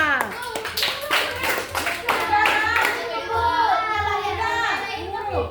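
Children in a classroom clap together, quick rhythmic applause close by with excited kids' voices chattering and calling out over it.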